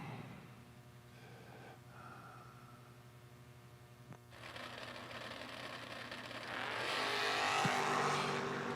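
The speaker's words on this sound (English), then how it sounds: "We got a drag race," Dragster race cars at a sticker drag race; a distant engine drone builds and then jumps into a loud, broad roar as the cars launch, with a brief sharp crack near the end.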